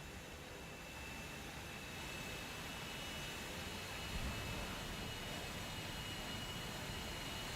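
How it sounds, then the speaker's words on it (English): A jet fighter in War Thunder roars as a steady, broad engine rush that fills the whole stretch at an even level, with no talk over it. "This is a jet fighter."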